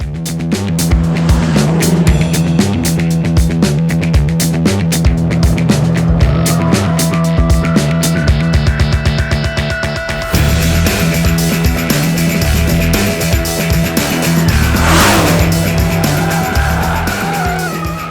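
A Dodge Challenger SRT Hellcat with a 6.2-litre supercharged V8 works hard around a racetrack, engine revving up and down through gear changes with repeated tire squeals and skids, loud and close throughout, with no voices.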